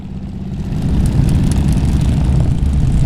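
A low rumbling Morris car engine drones steadily, swelling slightly as the car passes nearby, with no voices.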